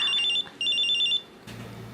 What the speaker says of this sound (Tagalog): Cellphone ko.